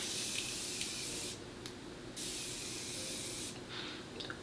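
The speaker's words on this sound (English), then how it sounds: "we're going to use our continuous Morphe spray" Morphe continuous setting spray hisses in a long, steady mist, broken by two short pauses before the spraying resumes, close and fairly quiet, with no talk.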